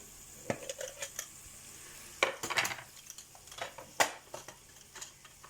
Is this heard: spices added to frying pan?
yes